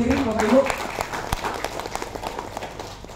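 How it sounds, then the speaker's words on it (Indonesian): Seminar audience clapping at a hotel business event in Kendari, a crowd applauding under a loud speaking voice that fades out over a few seconds. "Boleh berikan aplaus untuk diri sendiri, Bapak Ibu."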